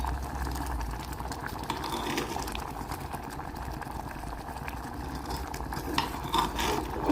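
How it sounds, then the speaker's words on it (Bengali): Dal chicken boiling in a pot: a steady, dense bubbling and simmering hiss that continues unbroken from start to finish at moderate loudness. "আবারও কিছু সময় ফুটিয়ে নিলাম।"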